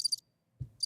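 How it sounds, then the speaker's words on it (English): A cricket chirping sound effect, two quick bursts of shrill trilling chirps separated by a short pause with a low thud, loud and close. "I played the crickets."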